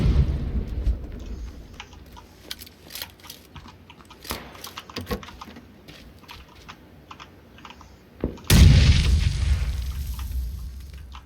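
A frag grenade goes off in PUBG as one sudden loud blast late in the clip, with a rumbling tail. Steady clicks of computer keyboard typing run underneath throughout.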